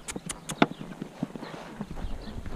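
A gaited mare canters, her hooves clip-clopping close by in an uneven rhythm of sharp thuds, some louder than others, over a couple of seconds.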